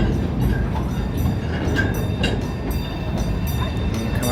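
A train rolls past at Cedar Point amusement park, a steady close rumble with rattling, clacking wheel noise throughout.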